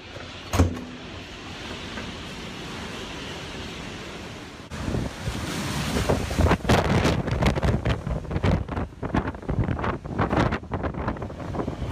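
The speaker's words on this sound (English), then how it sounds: "Here in the hallway, you can really feel how the wind is so much stronger now" Strong storm wind roars through a hotel hallway, a steady rushing blast that surges louder halfway through into heavy, buffeting gusts, alone without voices.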